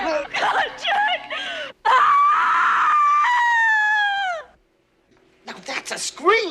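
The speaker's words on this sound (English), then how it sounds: "Now that's a scream!" A woman screams for a film sound effect, a series of shrill, wavering high-pitched shrieks with short gaps between them, the longest held for over two seconds before trailing off, then more cries return.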